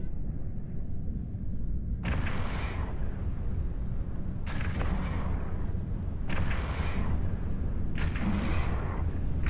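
Ship weapons fire in the space game Eve Online, four heavy booming blasts spaced a couple of seconds apart over a constant low rumble. No voices are heard.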